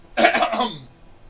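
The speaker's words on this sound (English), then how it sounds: "the spell now breaks because He coughed in the middle of it" A character in the Quest for Glory III video game coughs once, a short, close, rough burst that trails off, interrupting a spell being cast.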